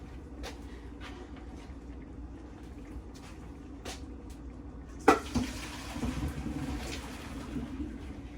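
Pasta and its hot cooking water pour from a pot in a kitchen, a sudden splashing gush after quiet clinking, then a sustained rushing trickle that fades.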